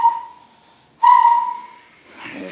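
A young child whistles near the mic while playing with a Thomas the Tank Engine toy: two sustained, wavering tones with a short gap between them, then a little soft room noise and a small voice at the end.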